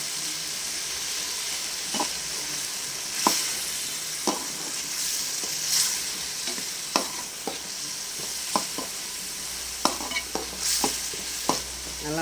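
Curry leaves frying with tomatoes in a pan for a snake gourd curry, giving a steady hissing sizzle close up that is punctuated by regular clicks and scrapes of stirring.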